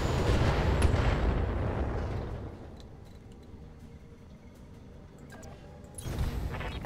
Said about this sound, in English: This turret sound really brutal